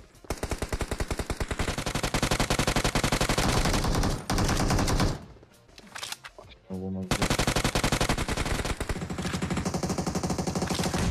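Automatic gunfire from an elevated position in PUBG Mobile, loud rapid machine-gun bursts hammering almost continuously, breaking off briefly near the middle before resuming at full intensity.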